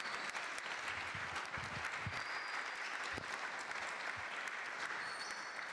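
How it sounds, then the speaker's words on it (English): Sustained applause from the audience at a District 1 city council candidate forum, a steady, dense wash of clapping that holds evenly throughout at moderate distance. "Let's give them a round of applause once again."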